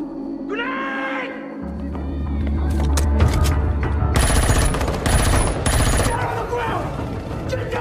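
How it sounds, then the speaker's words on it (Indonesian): Soldiers shoot at one another in the film Awake, and rapid gunfire breaks out in loud, dense bursts during the second half. Earlier sounds are quieter, and voices mix in. "para militer yang berjaga, mereka seakan diserang musuh dan saling menembak di antara mereka"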